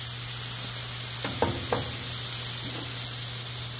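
Potato chunks hit hot oil on a Blackstone griddle, giving a steady broadband sizzle with a few brief scraping, stirring bursts near the middle. No one talks.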